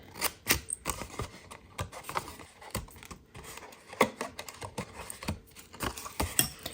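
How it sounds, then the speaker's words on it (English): Scissors cutting paper along score lines and making angle cuts for an Easter treat, heard as faint, close, irregular snips and crisp crunching clicks in quick succession. "Now we're going to cut on this score line and this score line, and then angle cut."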